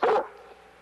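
A dog gives a single sharp, loud bark close by, with a short fading tail afterward.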